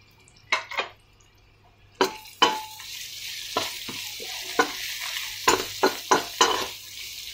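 Ginger of two kinds and lemongrass frying in a pan for prawns in coconut milk, with a steady sizzle broken by repeated scraping stirs and clinks of a utensil against the pan, close and fairly loud with no talking.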